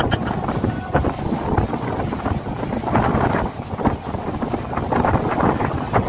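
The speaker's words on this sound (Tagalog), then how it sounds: "O, diba nadadala ako ng hangin? Sobrang lakas kasi niyan" Strong wind roars and blasts against the microphone in heavy, continuous gusts in Zambales Province, Philippines, loud and close, with the rush of water faintly beneath.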